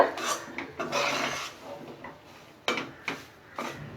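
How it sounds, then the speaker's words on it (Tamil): Besan laddu mixture being stirred in a metal pan, with repeated scraping and clinking of a spoon against the pan in irregular bursts, close and fairly loud, with no talking. "ஒரு 5 நிமிஷம் நல்லா இதை கிளறிட்டே இருங்க."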